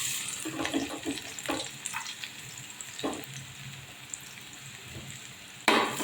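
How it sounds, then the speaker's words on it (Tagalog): Chopped onions dropped into hot cooking oil in a pan, a soft close sizzle with a few stirring scrapes and clinks, then a louder burst of hissing near the end, no voices. "Mainit na ang ating mantika. Ilagay na po natin ang sibuyas."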